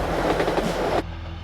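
A Russian broad gauge passenger train runs on its rails with a dense, loud rumble and rapid clickety-clack beats, which then drop to a lower steady roll.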